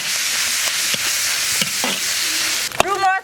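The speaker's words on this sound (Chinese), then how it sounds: "锅烧热，下肉末" Minced meat hitting a hot wok and stir-fried, a loud continuous sizzle with spatula scrapes and taps, ending in a brief clatter and a clear ringing tone.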